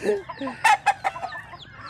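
Rhode Island Red chickens cluck in a coop, a few sharp, loud bursts in quick succession over softer background clucking and faint farmyard ambience.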